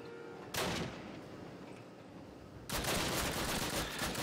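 Gunfire from the video game Call of Duty comes in two dense, roaring bursts, loud and continuous like sustained rifle or machine-gun fire, with a rumbling pause between them and no talk over it.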